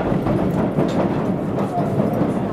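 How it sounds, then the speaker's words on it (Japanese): A Yokohama Municipal Subway Blue Line 4000 series train runs with a steady, close, low rumble and rail noise that carries on without a break. "電車発車いたします。"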